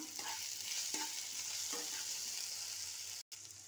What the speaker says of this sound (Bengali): পেঁয়াজগুলোকে ভালো করে নাড়িয়ে নেব, নাড়িয়ে ভেজে নেব